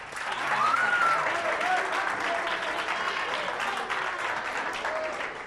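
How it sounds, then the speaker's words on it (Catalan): A studio audience at a Catalan letter quiz show applauds a contestant. The dense, steady applause fills the room and carries on evenly from start to finish, with a voice rising faintly above it. "Vinga, aplaudiu-lo, no?"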